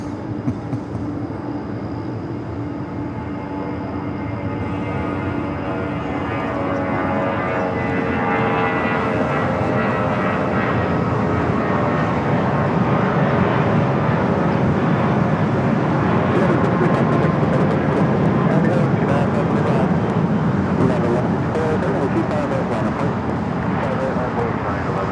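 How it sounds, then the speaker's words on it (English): An airliner taking off at night at Los Angeles International Airport, a steady loud jet roar swelling gradually as it rolls down the runway, with a voice talking over it at times. "Let's go to our next takeoff."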